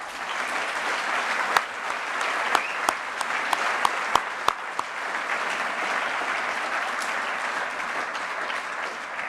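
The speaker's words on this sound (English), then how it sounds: "I think we should give them a round of applause." Audience at a graduation ceremony applauding, a dense, sustained clapping from a large crowd filling the hall, with a few sharper individual claps popping out early on.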